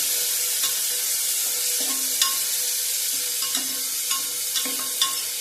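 Chopped tomato sautéing in hot oil in a pot for dal tadka, a bright steady sizzle broken by regular scraping clinks of a spoon against the metal, close and continuous without speech.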